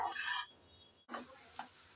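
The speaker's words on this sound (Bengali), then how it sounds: "আমি অনেকক্ষণ সময় ধরে নেড়ে চেড়ে ভালোভাবে ঘিয়ের মধ্যে ভেজে নিলাম।" Carrots stirred and fried in ghee for shahi carrot halwa: two short bursts of scraping and sizzling are separated by a near-silent gap, with a small clink in the second burst; quiet overall, with no speech.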